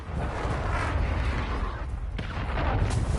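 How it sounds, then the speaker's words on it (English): A cruise missile strike in Call of Duty Modern Warfare 2, a sustained rumbling, crackling blast of explosion noise that stays heavy and dense throughout, with no voices. "Friendly cruise missile inbound."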